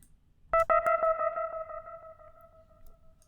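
A synth tone struck once and repeated through a fully wet Ableton Live Echo effect, the bright pitched hit trailing into a series of fading echoes that ring out over several seconds.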